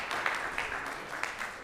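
A conference audience gives a short round of applause in a hall, a soft, fairly distant wash of clapping with a few sharper claps standing out.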